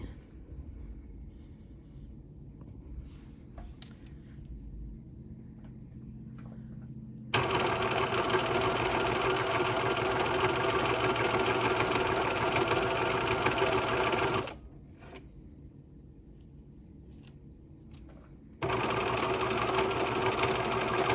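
A sewing machine stitching a small quilt runs in two long, loud bursts of fast, even whirring and needle clatter, separated by a quieter pause with faint handling noises.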